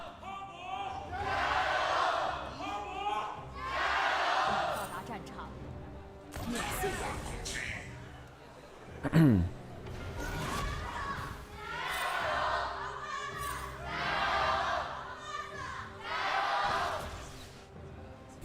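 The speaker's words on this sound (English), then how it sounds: "Good cheers out from the FPX crowd over in Shanghai today" Esports crowd at an LPL FPX vs TES League of Legends match in Shanghai, cheering in swelling bursts that rise and fall throughout, with a sharp thud midway and caster voices talking over the roar.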